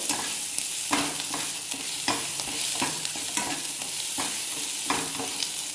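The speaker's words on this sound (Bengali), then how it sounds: "তারপরে কাদ্দুকস করে রাখা একটু আদা আর দুটো কাঁচা লঙ্কা, এগুলো একটু ভালো করে ভেজে নেব।" Grated ginger and green chilies sizzle and fry in a pan for paneer butter masala, with steady crackling and regular scraping strokes of a spoon stirring throughout.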